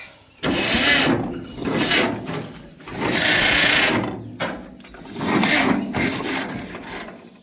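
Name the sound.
vintage Farmall or John Deere tractor engine cranking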